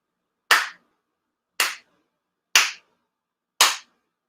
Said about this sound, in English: Chido Haide for sincere claps